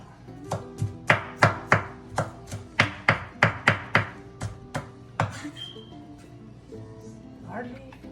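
Garlic cloves being mashed and chopped for chicken soup, a run of about a dozen sharp, evenly spaced knife thunks on a board, close and loud, then a few scattered lighter taps.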